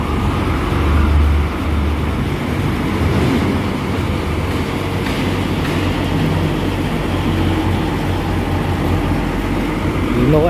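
A Hino RK8 R260 bus with air suspension from the Po Haryanto fleet rumbles steadily with a loud, continuous engine drone and road noise close by.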